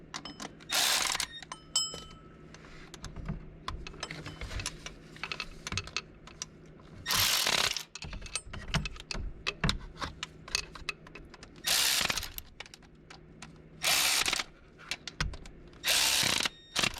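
A ratchet snugs bolts on the water pump of a 2006-2009 Mercedes E350. It gives close, rapid clicking, broken by several louder bursts of ratcheting, with lighter clicks and handling noise between them.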